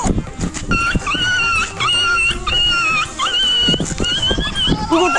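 A dog gives a string of high, wavering whines and yelps in short bursts, close and loud, in a chaotic scene with people's voices mixed in.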